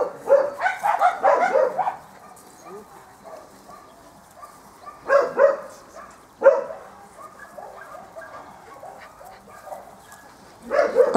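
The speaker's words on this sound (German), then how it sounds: "Ein ganz freundlicher, lieber kleiner Hund" A small, friendly dog barks in short clustered bursts at close range, with quieter stretches and a few yelps between the louder volleys.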